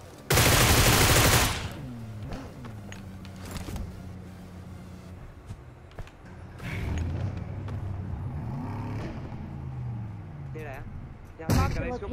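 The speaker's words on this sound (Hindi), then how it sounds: "सामने ग्रेनेड हुआ।" A grenade blast and bursts of gunfire in a shooter video game: a loud explosion at the start, then sustained mixed game noise with scattered shots and a sharp burst near the end, with speech over it.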